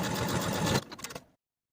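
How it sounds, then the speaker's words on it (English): A sewing machine runs briefly to edge stitch close to a folded bottom edge of fabric, a dense near whir that slows in a few stutters and then stops. "Then we're going to take it to the sewing machine and edge stitch close to this bottom fold all the way across"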